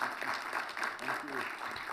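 Applause from a conference audience at a policy forum on global financial reform, moderate and fairly distant, with voices talking over the clapping.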